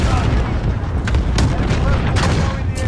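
An RPG-7 rocket explodes during a chaotic 10-versus-10 Call of Duty firefight on the Piccadilly map: heavy booms land amid dense, continuous gunfire, loud and close.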